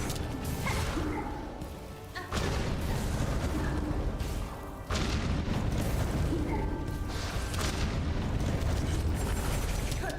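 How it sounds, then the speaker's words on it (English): Huge explosions rumble in the video game Silksong, repeated heavy booming bursts with crackling debris that fill the whole stretch at steady loudness. "The explosions are so crazy big."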